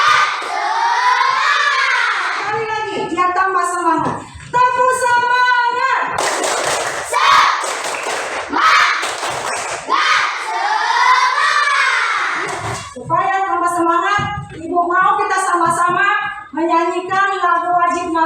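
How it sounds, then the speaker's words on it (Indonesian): A class of schoolchildren performs a rhythmic spirit clap in a classroom, patterned bursts of clapping mixed with loud chanting voices and shouts, alternating with stretches of group singing-like vocalizing, all close and energetic. "Tepuk semangat."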